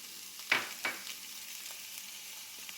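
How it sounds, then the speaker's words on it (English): Herbs, vegetables and tomato paste toast in a pan with a soft, steady sizzle and a couple of brief louder crackles near the start, quiet and close with no voices. "I want that tomato paste to kind of toast with those herbs and vegetables for about 1 minute here"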